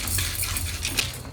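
Dal being dry roasted and stirred in a pan over medium heat, a brief close stretch of steady gritty rustling with light metallic scrapes and clinks from the spoon against the pan.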